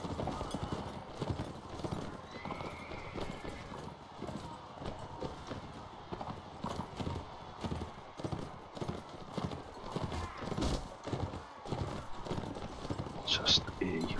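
Horse hooves clip-clop in a steady galloping rhythm during a jousting tournament in the Mount & Blade Warband video game, close and continuous, with a brief whinny and someone talking over it.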